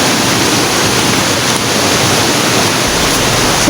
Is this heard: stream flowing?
yes